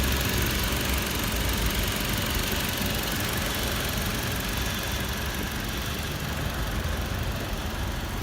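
A 2.7-liter VVTi petrol engine in a 2014 Toyota Land Cruiser Prado runs steadily at a close, even idle, with a continuous low mechanical hum and no voices.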